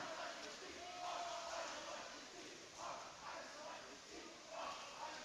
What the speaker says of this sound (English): In the background, you can hear the CRIMSON cheer that the Maple Grove team does for this race.